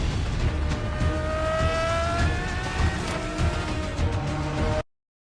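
A race car engine revving and roaring past with rising and falling pitch, loud and continuous, then cutting off abruptly.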